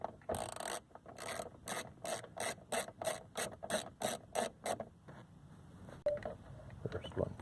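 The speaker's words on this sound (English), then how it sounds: "I just got a 7mm wrench, and we're just going to start loosening those things up." A 7mm wrench ratchets on bolts under the dash of a 2007 Pontiac G5 during a turn signal switch replacement, a close series of quick rhythmic clicking strokes, then a pause and a few softer scrapes.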